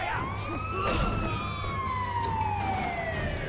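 A police car siren in the video game Sleeping Dogs wails in long rising and falling sweeps, loud and continuous over a low rumble of game ambience.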